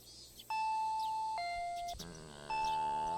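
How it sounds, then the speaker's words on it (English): A doorbell in the anime Higurashi When They Cry Kai rings with a clear two-tone ding-dong chime, repeated after a short pause, bright and distinct against a quiet background. "The doorbell ringing."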